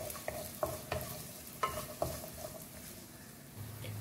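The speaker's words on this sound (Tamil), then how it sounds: "இது எல்லாத்தையுமே நம்ம கொஞ்சம் நெய்யில் வறுத்துக்கலாம்." Cashews and dates fry in ghee in a small pan, a faint soft sizzle punctuated by several light clicks and scrapes of a spoon stirring against the pan, with no talking.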